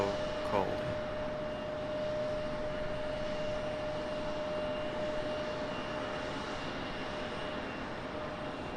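Aircraft in Florida One livery arriving at Raleigh-Durham International Airport, a steady broad engine roar at even loudness, with a brief sharper burst near the start.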